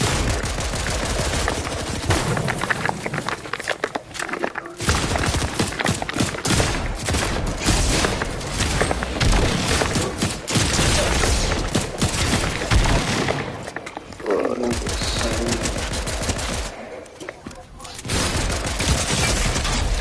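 Shotgun fire in a video game: loud, dense volleys of blasts come in quick succession, almost continuous, with a couple of brief lulls between flurries.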